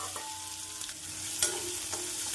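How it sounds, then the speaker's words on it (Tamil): Chopped big onions go into hot oil with bay leaf, star anise and cardamom for a tomato kurma, frying with a steady soft sizzle and a few light stirring scrapes and clinks, close and moderately loud. "அனைத்தும் பொரிந்து வரவும் நறுக்கிய பெரிய வெங்காயத்தை சேர்த்து விடலாம்"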